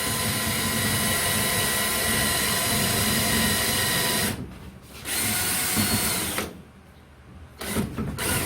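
A power drill bores through a 2x4 and sheet metal on a bus conversion project, its loud, steady whine running continuously before cutting out twice in short stops and restarts.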